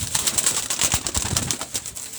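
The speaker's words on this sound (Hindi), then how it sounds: "ये कबूतर आए हैं, देखो माशाल्लाह ब्रीडर कबूतर हैं और बड़े ही वीआईपी कबूतर है।" Breeder pigeons in a small cramped enclosure coo and flutter up close, several birds' soft throaty calls overlapping in a busy, continuous murmur with no talk.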